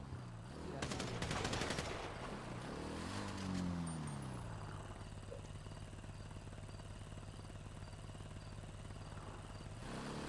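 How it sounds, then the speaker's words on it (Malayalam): Warning gunfire in a video game: a quick burst of rapid shots near the start, followed by a steady mechanical engine drone that persists through the rest, fairly quiet overall. "ആളെണ്ണ നോക്കാതെയാണ് വാണിംഗ് ഫയർ ഒക്കെ തരുന്നത്"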